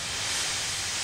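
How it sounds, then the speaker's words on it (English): A cartoon steam locomotive lets off a continuous breathy hiss of steam, loud and steady throughout with no voices over it. "Gordon wheezed some steam and pulled out of the station."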